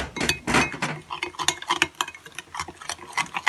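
Spoon clinks and scrapes against a bowl while dry spices and lemon juice are mixed into a chicken marinade, a quick irregular run of small close knocks and taps.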